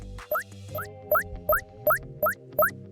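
Seven identical short game pickup chimes at a fixed pitch sound in a steady, evenly spaced sequence, each a bright quick blip over a soft sustained background tone, with no talking.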